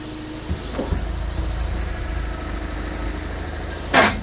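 Engine of an Invacar revving with the clutch engaged, a steady mid-range drone held throughout with a brief louder burst near the end, close and without talk.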